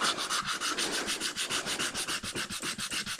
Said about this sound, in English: I'll just hand sand it